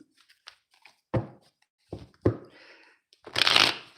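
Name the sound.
shuffling tarot cards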